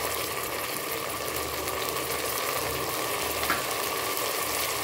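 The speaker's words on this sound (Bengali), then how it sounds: "চাল, ডাল এবং সবজিগুলোকে ভালো করে একটু ভেজে নিব" Rice, lentils and vegetables frying with onions in a pan, a steady broadband sizzle that holds evenly throughout with no voices.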